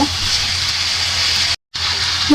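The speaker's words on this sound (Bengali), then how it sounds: "এখন আমি মাছটা দিয়ে দিব" Koi fish dropped into hot oil and spice paste for a bhuna sets off a loud, steady frying hiss that runs continuously, cut by one brief moment of silence before resuming.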